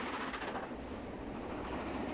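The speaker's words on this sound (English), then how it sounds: "the steam engine working hard on the steep grades" A steam train, the Fellsman, labours up steep grades, giving a steady, loud broadband rumble of rolling rail noise with faint wheel clatter and no voices.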